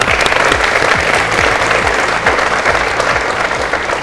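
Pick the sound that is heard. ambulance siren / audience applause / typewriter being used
audience applause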